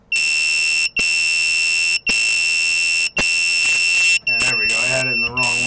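A piercing electronic alarm from an HW-512 Arduino buzzer module blares in long repeated bursts with short gaps, like a smoke alarm, then a person speaks over the final tones.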